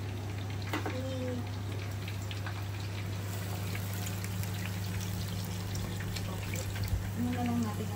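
Water is poured into a pan of tofu and pork while cooking, a steady splashing pour under a constant electrical hum, with a voice talking faintly at times.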